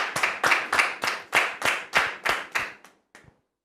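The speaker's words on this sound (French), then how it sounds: "Sous vos applaudissements, s'il vous plaît." Studio audience on a French-language television show claps in a series of about nine sharp, evenly spaced bursts, close and fairly loud, trailing off to a few scattered claps and then silence.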